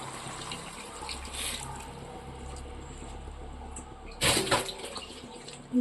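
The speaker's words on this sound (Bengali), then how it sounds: "আমি পরিমাণ মতো জল দিয়ে দিচ্ছি" Water is poured into a cooking pot for a curry with fried lentil fritters, a soft, close stream that swells into a brief louder splash near the end.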